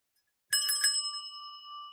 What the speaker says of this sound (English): I feel like I need to ring a bell.